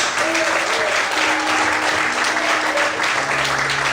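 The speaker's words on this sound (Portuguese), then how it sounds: "Quantos podem aplaudir ao Senhor?" A church congregation applauds during a sermon, a dense, continuous wash of clapping with a faint sustained tone underneath and no pauses throughout.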